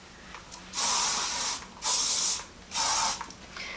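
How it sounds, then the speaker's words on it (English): Hairspray hisses in three sustained bursts, each about a second long, as it is sprayed onto hair, close and loud with short pauses between. "I definitely need hairspray"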